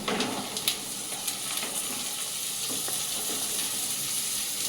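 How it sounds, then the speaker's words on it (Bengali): Carrots and beans frying in a pan with onion, ginger, garlic and green chilli, a continuous close sizzle with a few light clicks of stirring near the start, fairly quiet and steady throughout. "এগুলো একটু হালকা ভেজে নিয়ে তারপরে বাকি সবজিগুলো এর মধ্যে"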